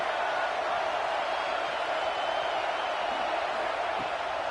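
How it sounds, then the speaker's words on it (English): Steady crowd roar fills a stadium in an NCAA college football video game, Michigan vs Wisconsin, a dense continuous wash of cheering with no breaks. "Man, this crowd really affecting the football game."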